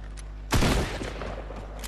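A single heavy, booming blast from a shotgun in a shooter game, close and loud, with a rumbling tail that fades over a steady low background hum.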